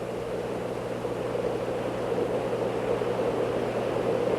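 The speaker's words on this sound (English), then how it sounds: "The only sound you hear is from the air that is slipping by outside." Steady broadband roar of air streaming past the cabin of a Convair 880 jet airliner in flight, a constant, even wash of noise with a low hum underneath and no speech.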